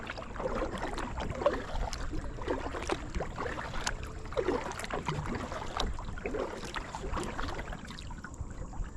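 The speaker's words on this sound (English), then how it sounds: "We are out kayaking at Shawnee State Park this morning." Kayak paddling at Shawnee State Park in the morning: soft, repeated water splashes and drips from paddle strokes in a gentle uneven rhythm, faint and close, with quiet ambience between strokes.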